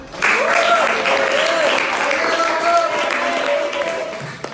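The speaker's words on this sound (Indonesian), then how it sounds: "Tepuk tangan dong." Classmates clap in a classroom after a group presentation during an Islamic religious education teaching practice, a loud steady burst of applause with someone talking over it before it fades at the end.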